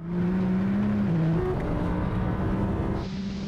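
Audi R8, Nissan GT-R and McLaren 720S launching together at a drag race start, a loud, dense engine roar from inside one car with a rising pitch, then a shift and the roar continuing.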